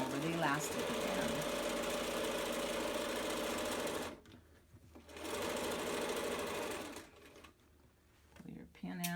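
A sewing machine back-stitching back and forth over elastic while assembling a fabric face mask, steady rapid stitching in bursts separated by short pauses, close and clear.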